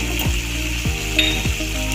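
Ground spices frying in oil in a pan as roasted coriander powder goes in for a flattened-rice khichuri, a steady close sizzle with a few soft stirring scrapes and no talk.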